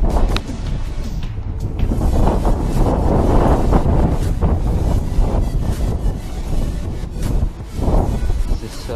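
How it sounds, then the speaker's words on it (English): Strong wind buffets the microphone in loud, continuous gusts on an abandoned railway bridge, with a roaring low rumble that swells and eases over the whole stretch. "So windy too, so gotta be careful."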